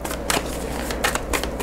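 A deck of tarot cards is shuffled close up in a quiet room, giving a rapid flurry of soft riffling slaps and papery clicks with no voices.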